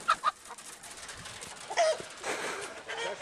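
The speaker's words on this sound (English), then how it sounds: "I think we're just tormenting your chickens" Chickens cluck softly and intermittently nearby during feeding, with a few short squawks over faint background rustling.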